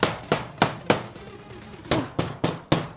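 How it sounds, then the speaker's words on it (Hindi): Hammer striking nails into a wooden coffin lid: seven sharp, evenly spaced knocks, close and loud, with a short pause in the middle. "सारी कीलें बराबर तरीके से ठोक दी हैं।"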